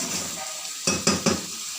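Food roasting in a pan with yogurt, a faint steady sizzle broken by three quick spatula scrapes and clinks against the pan near the end.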